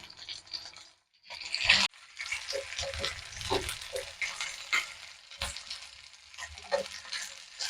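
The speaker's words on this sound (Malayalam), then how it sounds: "നമ്മുടെ മീൻ വറുത്തത് ഏകദേശം റെഡിയായിക്കൊണ്ടിരിക്കുന്നു" Kilimeen fish frying in a pan with a steady, close sizzle and crackle of oil, a clatter near the start and no voices.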